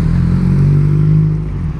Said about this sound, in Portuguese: Ele tá acelerando bastante,